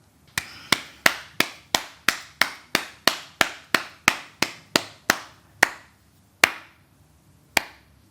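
Hand clapping, about sixteen sharp claps close to the mic in a steady quick rhythm at first, then slowing to a few spaced claps at the end, with no talking.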